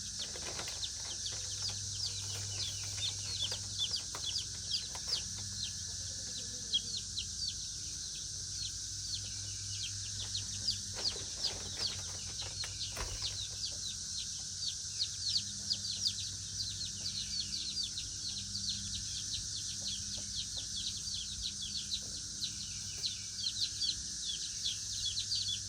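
A crowded chicken coop with newly arrived chicks and chickens, full of continuous soft peeping and chirping, with occasional clucks, brief wing flaps and rustling over a low steady hum.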